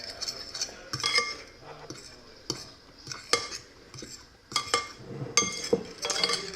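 A fork scrapes and clinks against a bowl while mixing flour and salt for a homemade pie crust, giving irregular metallic taps and stirring scrapes at close range with no talking.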